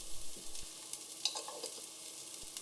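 Chopped ginger stirred in a hot pan, a soft steady sizzle with scraping stirs up close.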